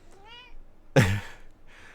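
An unhappy cat lets out a short, wavering meow, then a louder, harsher yowl and a faint trailing cry, each up close and with no talk.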